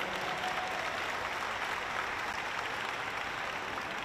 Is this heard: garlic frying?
no